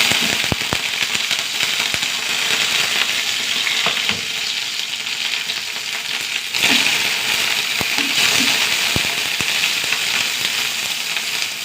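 Mustard seeds splutter and pop in hot oil with curry leaves, a dense steady sizzle punctuated by sharp crackling snaps throughout, close and fairly loud with no voices.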